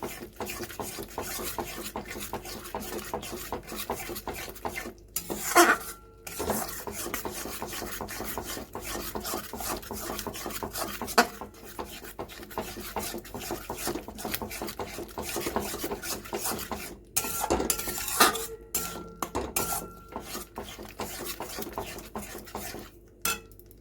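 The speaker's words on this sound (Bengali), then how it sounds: "দই দিয়ে ভালো করে নাড়িয়ে নেব, নাহলে দইটা কেটে যেতে পারে।" Masala and yogurt stirred in a pan, with repeated scraping and rubbing of a spoon against the pan, close and moderately loud, plus a few sharper clanks of metal on the pan.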